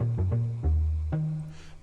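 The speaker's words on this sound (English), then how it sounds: "It's a muted one shot guitar" A muted one-shot guitar sample plays a short run of plucked notes, four to five dry, damped hits low in pitch, with the last one held briefly. It is close and fairly quiet, with no talk.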